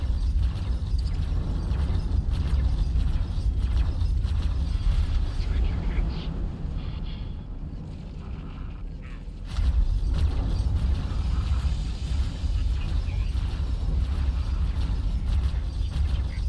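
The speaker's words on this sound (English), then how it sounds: "Oh, it's docking at the Odysseus there." Spaceship docking at a station in X4: Foundations, heard as a loud, steady mechanical grinding and ratcheting hum with a brief quieter dip partway through before the heavy machinery drone resumes.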